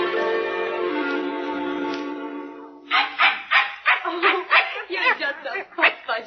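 A Pekingese in an old-time radio drama lets out a long, drawn-out whine, then breaks into a rapid run of close, sharp yaps.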